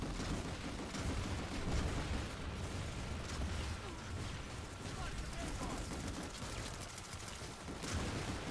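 Gunfire in the video game Planetside 2: a dense, continuous fusillade of shots and bursts rattles on without pause at moderate level, a chaotic wall of battle noise with scattered sharper cracks.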